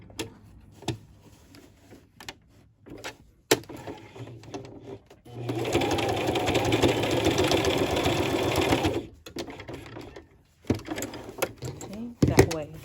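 A sewing machine runs a short burst of stitching to tack elastic in place on a face mask with adjustable ear loops, a steady whirring run of about three seconds between quieter handling clicks and bumps.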